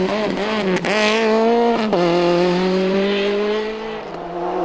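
Outdated Ford Escort rally car at the Dogleap Rally, a loud close engine revving hard with rising pitch sweeps and gear changes, then settling into a steadier drone as it pulls away.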